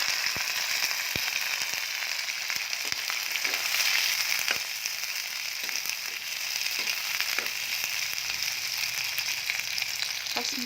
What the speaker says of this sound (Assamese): পিঁয়াজ ভাজি ল'লোঁ।